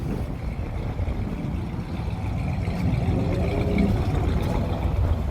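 A Ford Edsel's engine idles at a gas station with a steady low rumble, close and continuous, without revving, over faint background noise.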